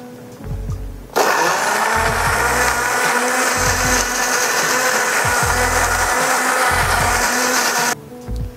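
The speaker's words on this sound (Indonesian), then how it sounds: "Aku menghaluskannya menggunakan minyak. Ini supaya aroma dari bumbu yang kita haluskan itu sama dengan kalau kita menghaluskan dengan cobek. Oke, bumbunya kita haluskan." A blender grinds spice paste with oil for Javanese mie godog, starting abruptly and running as one loud, continuous whir for about seven seconds before cutting off, with brief quieter sounds before and after.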